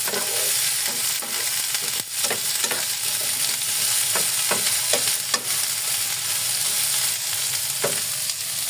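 Pampano fish and ampalaya (bitter melon) are stirred in a sizzling pan, with a constant loud fry hiss broken by repeated scraping knocks of the utensil at an irregular pace.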